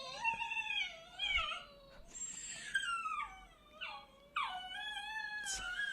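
Two dogs howling and wailing with a yodel-like, pained quality, long wavering cries rising and falling over several seconds, close and fairly loud with no talking.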